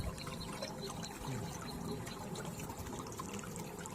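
Water flows in a small stream with a faint, steady trickling and bubbling, continuous and quiet, with no voices.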